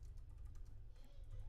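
Quick, steady typing on a computer keyboard during a programming lecture, close and clear with soft continuous key clicks over a low background hum, no talking.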